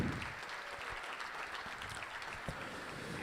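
Audience applause fills a gala hall, a dense, steady clapping from a sizable crowd that holds at an even level throughout with a few sharper claps standing out, and no talking over it.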